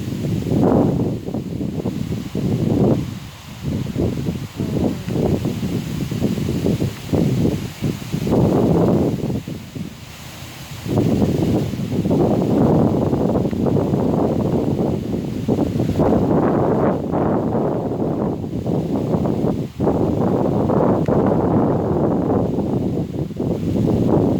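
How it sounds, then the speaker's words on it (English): Fresh wind blowing outdoors, a loud, steady rushing that gusts and buffets the microphone for the whole stretch, with brief lulls and no voices. "So there's a lot of wind today, and it's a fresh wind."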